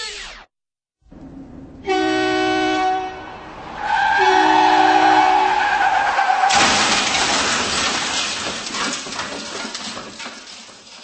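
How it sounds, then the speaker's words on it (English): A car crash sound effect: a horn-like blare and long screeching tire skid build into a loud, sustained crashing roar with rattling debris, close and alone. "Now about that car crash."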